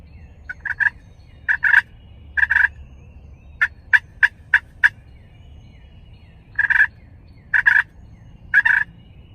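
Wild turkeys gobble and call at dawn in the woods, several separate gobbling bursts spaced across the stretch with quick sharp calls between them, clear against a quiet rural background.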